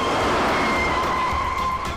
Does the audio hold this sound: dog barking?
no